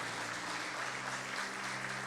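A church congregation applauds during a service, a dense, even wash of clapping that holds steady for a couple of seconds with no speech over it.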